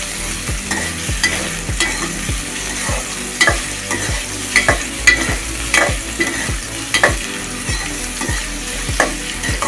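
A fish head fries in hot oil in a pan until reddish, for a jackfruit-seed curry, with a steady sizzle broken by regular scraping stir strokes close up.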